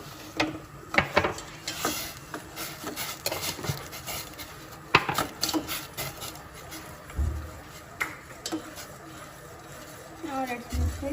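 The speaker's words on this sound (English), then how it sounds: "Now let's mix it." A spoon stirs tea in a metal pot on a home stove, giving intermittent scraping and clinking taps between spoken instructions from a voice nearby.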